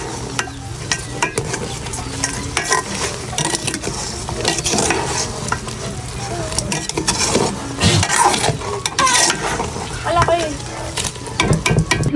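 Chicken tinola is stirred in a pot, with repeated scraping and clinking of a utensil against metal over a simmering, bubbling sound, while a person speaks now and then alongside.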